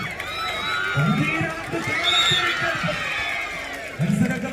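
A crowd at a tug-of-war quarter-final in an all-India tournament in Bangalore claps and cheers in bursts. The roar stays dense and close, and a commentator keeps talking over it.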